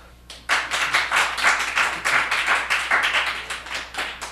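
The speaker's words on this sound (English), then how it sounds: "You're a little late on the applause" A comedy-show audience claps for a comedian, starting suddenly after a quiet moment with steady, fairly close handclaps from a modest crowd in a loose, pulsing rhythm, holding the same level throughout.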